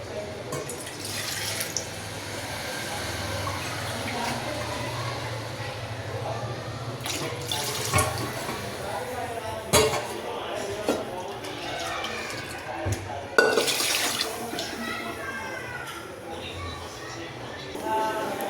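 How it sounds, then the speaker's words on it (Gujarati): Water poured from a tap or vessel into boiled dal for Gujarati dal dhokli, a continuous splashing trickle with drips, heard close under intermittent kitchen clatter and talk. "એમાં આપણે પાણી એડ કરીશું હજી"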